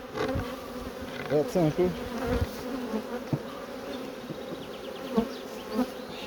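A honeybee colony buzzes in a hive at close range, a dense droning hum with individual bees whizzing past the microphone, while someone speaks a few words over it.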